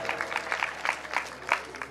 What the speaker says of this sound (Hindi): खुशी हो रही हो तो ताली बजाओ, नहीं हो रही हो तो भी बजाओ